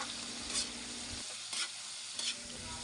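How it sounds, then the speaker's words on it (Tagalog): Shrimp sautéing in a pan for ginataang kamansi, giving a steady, quiet sizzle with three brief bursts of stirring scrapes. "Igisa na rin natin yung hipon."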